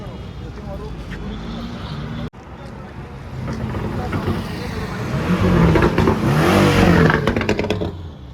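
A Porsche sports car arrives among other cars, including a G-Wagon, before a crowd in Nagpur. A broad engine roar swells and grows louder toward the end, mixed with wind buffeting and voices nearby.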